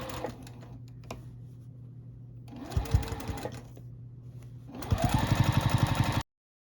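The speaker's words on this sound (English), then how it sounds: "sew down and join to my original sewing line from when I began sewing round at the beginning of the quilt" A sewing machine stitching binding onto a quilt runs in three separate bursts of rapid, steady mechanical chatter, with quiet pauses between. The last burst is the loudest.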